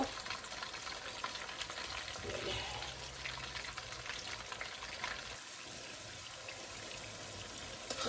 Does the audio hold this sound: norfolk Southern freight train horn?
no